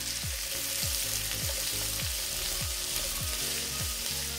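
Onions and yellow peppers fry in a pan with a loud, continuous close sizzle, while a low rhythmic thump repeats about every half second beneath it.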